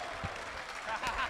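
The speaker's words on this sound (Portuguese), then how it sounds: "Vamos aplaudir o Young Black, terminou a batalha." Audience applauding after a rap battle, a short burst of clapping and crowd noise with a voice over it.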